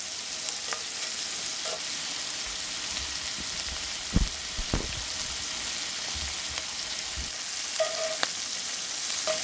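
Horsetail fern shoots sauteing in a pan, a quiet continuous sizzle with a few soft stirring clicks and scrapes, no voices.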